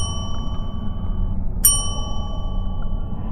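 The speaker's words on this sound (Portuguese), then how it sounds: "Esperei mais alguns minutos, tocando a campainha repetidamente." A metal reception desk bell gives bright ringing dings, a sustained tone at the start and one sharp strike midway that rings out slowly, heard alone over a low background rumble.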